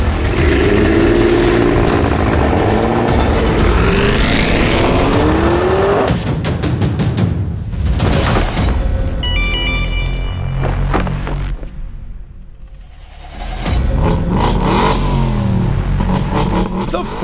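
A Ford F-150 Raptor R engine revs loudly, its pitch sweeping up and down through several throttle blips, with a brief lull before the roar returns.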